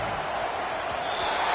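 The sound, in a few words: football stadium crowd cheering on third down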